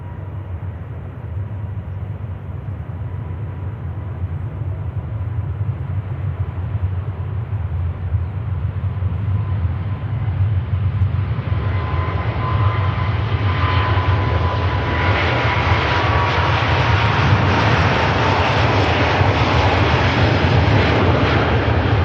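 Singapore Airlines Airbus A350 jet at Manchester Airport, its engine roar building steadily into a loud, broad rushing swell that peaks toward the end, with no talking.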